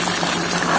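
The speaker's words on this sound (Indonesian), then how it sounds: "Saya akan goreng dulu kacangnya" Peanuts fry in hot oil, giving a dense, steady crackling sizzle that fills the moment close up with no pauses or voices.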